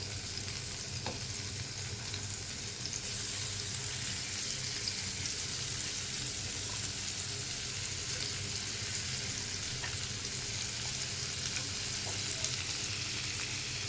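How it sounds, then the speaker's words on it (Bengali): Air fish frying in about a tablespoon of oil in a hot frying pan, producing a dense, continuous sizzle and crackle that holds steady throughout, with no voices. "এখানে আমি ফ্রাই প্যান গরম হয়ে গেছে, এখন 1 টেবিল চামচ তেল দিয়ে মাছটা ভাজা দিয়ে দেবো।"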